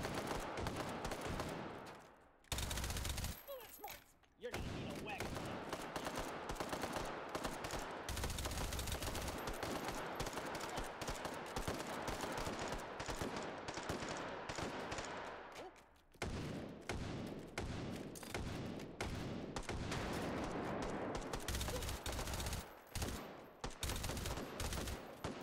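Gunshots ring out in the VR game Hot Dogs, Horseshoes & Hand Grenades, loud sustained bursts of rapid automatic fire broken by a few brief pauses, continuing almost without letup.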